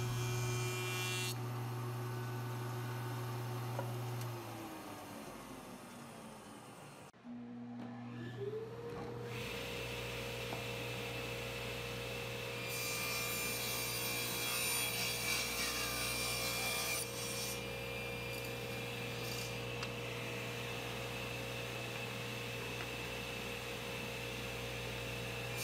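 Mahogany and purpleheart boards are jointed and cut to size in a workshop, with steady machine hum and whine, a motor spinning down and starting up again, and a rasping, rubbing cut of wood through the stock, all fairly faint.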